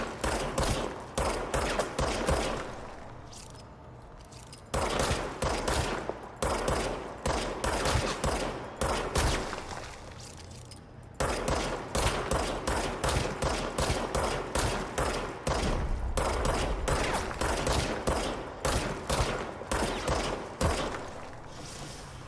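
Rapid gunfire from the video game Control, loud and sustained in long automatic bursts with brief pauses, broken into staccato volleys that continue almost the whole time without any talking.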